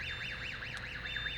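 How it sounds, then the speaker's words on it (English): A warbling electronic alarm tone from a LIFT HERO CPD30 electric forklift sweeps up and down in a steady, rapid cycle, moderately loud over a low mechanical hum. "Just turn on the key. Your alarm comes on."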